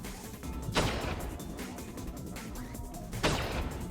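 Cannons in the video game TerraTech fire at an enemy vehicle, two sharp booming blasts with a rumbling battle din between them, loud and close.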